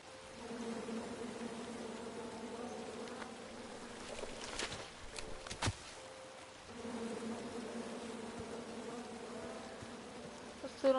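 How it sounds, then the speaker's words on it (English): A swarm of bees drones steadily in the King's Quest video game, a continuous buzzing that briefly breaks off midway before resuming at a similar level. "Come at me, bees!"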